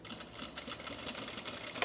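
A sewing machine runs in one steady close burst under two seconds long, its needle whirring at a fast even rate while stitching fabric for men's cargo shorts.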